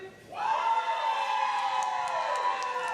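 Convention crowd at a cosplay tournament cheering for the cosplayer Counterfeit: a loud, sustained roar of voices and whoops rising after a brief pause and holding steady to the end.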